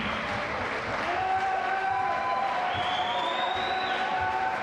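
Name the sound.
applause for champion bowling team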